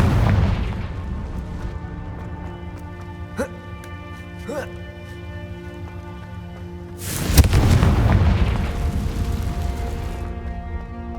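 A Confringo blasting spell explodes in the Hogwarts Legacy video game, a sudden loud, crackling boom near the end over a steady sustained musical drone, with a couple of softer thuds heard earlier.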